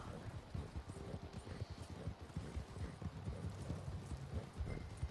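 Horse hooves clip-clop steadily on the ground in Red Dead Redemption 2 Online, a quick, even trotting rhythm heard close and moderately loud with faint game ambience behind, no talking.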